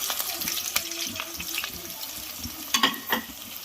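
Sliced onions fry in oil with cumin and garam masala powder, a faint, steady sizzle with a few light stirring scrapes and a brief cluster of clinks near the end.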